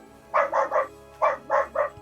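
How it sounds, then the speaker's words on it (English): Dog Ricky barks in two quick bursts of three sharp woofs each, close and loud, with a short pause between the groups and no talking over them. "Ricky, stop barking."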